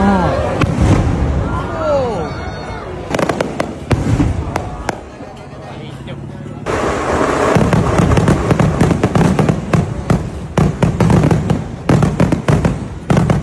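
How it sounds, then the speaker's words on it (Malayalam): Loud fireworks boom and crackle in rapid bursts, a dense barrage of pops and bangs with crowd noise in the background. "ഇവിടെ മെയിൻ ആയിട്ട് ആൾക്കാർ വരുന്നത് ഈ വെടിക്കെട്ട് കാണാനാണ്"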